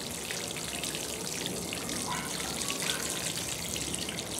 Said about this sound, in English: I'm going to water it in.